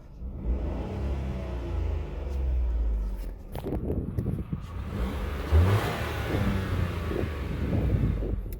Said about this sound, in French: Bon bruit moteur essence.